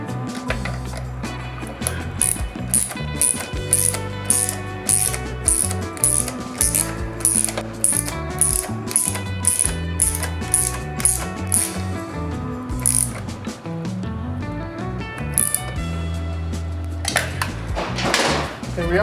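Ratchet wrench clicks rapidly while tightening a bracket on a Triumph Daytona 675R Scorpion Serket taper exhaust, close-up bursts of ratcheting with brief pauses between strokes.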